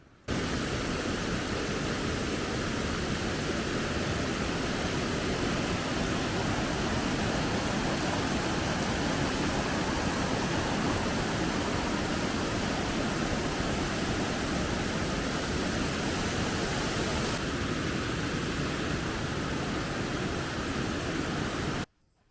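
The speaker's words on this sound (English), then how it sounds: "now we're actually going to go hike over and find the actual high falls, which is supposed to be about a 50-foot waterfall" High Falls, a waterfall about 50 feet tall in Algonquin Park, roars as one steady, dense rush of water that holds constant from start to finish, with no voices.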